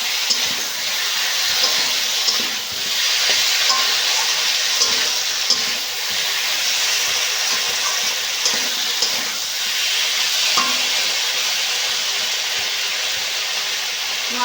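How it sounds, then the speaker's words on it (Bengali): Vegetables and spices with fish being stir-fried at length in a pan, a continuous dense sizzling hiss with scattered scraping and clinks, close and steady throughout. "মশলার সঙ্গে সবজিটা একটু বেশিক্ষণ ধরে কষলে তরকারির স্বাদ বেশ দারুণ আসে"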